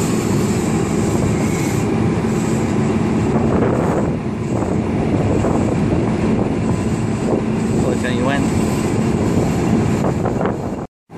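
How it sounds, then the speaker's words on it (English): A passenger train at a station platform, lead car 5622, rumbles and hums steadily up close as it prepares to depart, with wind buffeting the microphone and faint voices in the background. "And the train looks like it's going to depart, Barry."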